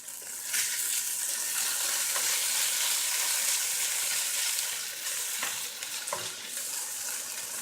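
Tofu fries in a pan on a stovetop with a continuous, moderately loud sizzle and crackle, broken now and then by brief scraping or stirring sounds, and no one speaking.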